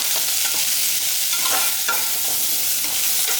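Grated coconut and masala sauté in a pan, giving a continuous close sizzle with soft scraping stirs layered over it and no voices.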